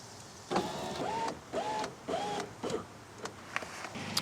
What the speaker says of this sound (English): Once that has been seated, we're going to roll the window up.